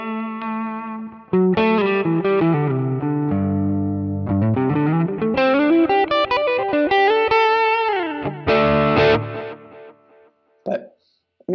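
Electric guitar through a Quad Cortex with a Centaur overdrive capture, gritty overdrive and modulated reverb, playing chords and sliding melodic runs with a chorus-like shimmer, ending in choppy bursts.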